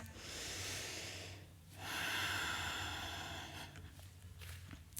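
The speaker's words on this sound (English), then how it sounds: "Catch your breath." Heavy, audible breathing after a power yoga pose: two or three long, rough inhale-exhale cycles, close and fairly quiet.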